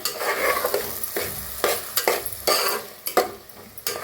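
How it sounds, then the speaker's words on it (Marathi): Masala being stirred and roasted in oil in a pan while making spicy chicken gravy: loud, close sizzling with repeated scraping strokes of a spoon against the pan in an irregular rhythm. "मसाला हलवून घेऊया हलवून छान असा भाजून घेऊया तेल सुटूस तर"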